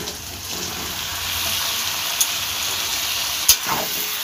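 Chicken meat added to fried potatoes in a pan for a Bengali curry, a steady close sizzle throughout with a couple of sharp clinks from stirring.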